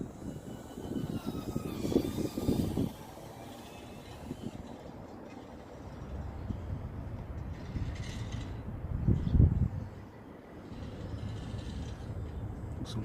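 Small Mantis 85 FPV drone on King Kong props flying low outdoors, a thin buzzing motor whine that swells and fades as it passes, with a louder close rush near the end.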